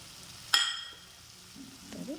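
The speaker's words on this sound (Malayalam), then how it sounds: "കരിവേപ്പിൻ്റെ ഇലയും കൂടി ഇട്ട് നന്നായിട്ട് അഴറ്റിയെടുക്കാം" Round tomato slices and curry leaves sauté in a hot pan for a soya dry roast: a sharp clatter, then a low, close sizzle and gentle stirring.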